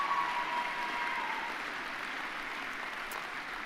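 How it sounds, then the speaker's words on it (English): Steady, distant applause from an audience at a college convocation ceremony fills a large hall, a soft continuous patter of many hands with no talk. "One more round of applause."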